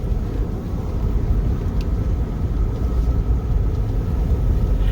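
Car with a rebuilt 4L60E automatic transmission driving along, a steady low engine and road rumble holding evenly throughout with no talk.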